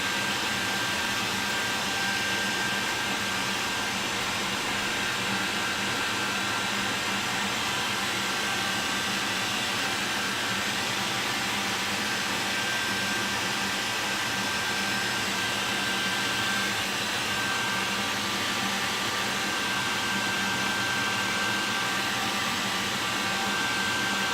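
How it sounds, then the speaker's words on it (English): A hairdryer on a warm setting blowing over a 1/35 scale Takom King Tiger model kit, a loud constant whooshing roar with a steady whine that holds unchanged for the whole stretch. "just going to hit the hairdryer on a warm setting, just speed up the drying time on this"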